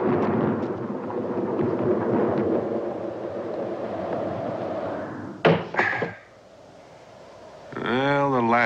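Thunder rolls loud and low through a thunderstorm, then a sharp crack and bang cut it off. A quiet pause follows before a voice begins to speak.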